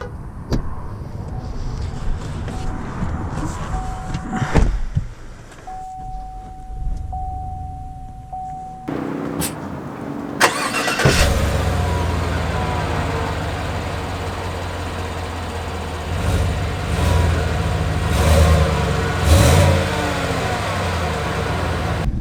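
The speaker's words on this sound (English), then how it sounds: "let's take out this Z71 package Tahoe to see how it drives" A 2019 Chevy Tahoe Z71 engine starts with a short crank and catch, then settles into a steady low idle and rumbling drive-off with mild revving, heard up close and inside the cabin without talk.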